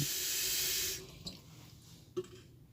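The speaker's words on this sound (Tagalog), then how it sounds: "pagkatapos maglagay ng sapat na dami rin ng tubig" Water runs steadily from a tap into a pot for about a second, then stops, followed by a couple of light clinks and drips.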